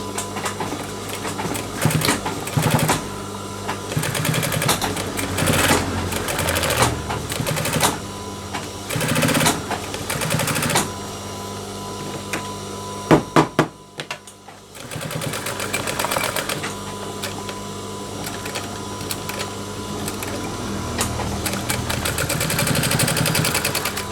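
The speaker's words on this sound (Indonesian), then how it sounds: "Lalu kita jahit bagian double-nya." A sewing machine stitching a double seam on a jeans waistband runs loud and close in steady rattling bursts, pausing briefly partway through before whirring on continuously to the end.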